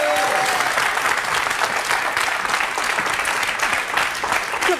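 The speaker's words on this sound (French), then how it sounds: "Alors, on peut l'applaudir très fort." A French television variety-show studio audience applauds loudly, dense sustained clapping that holds steady throughout without breaks.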